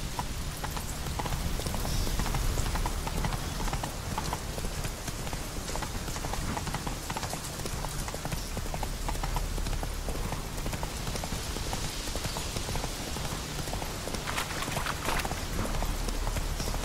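In the video game The Witcher 3, the horse Roach gallops in a steady, continuous run of close hoofbeats over a dense background wash that sounds like rain.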